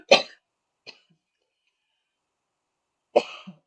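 A lingering cough from a woman crafting a card project at her table: a sharp close cough, a small follow-up catch, a long silent pause, then another cough with a throat-clearing tail.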